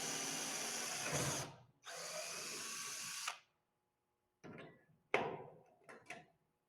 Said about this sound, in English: Drill a hole in the bracket first. Then drill the bulkhead using a bracket as a template.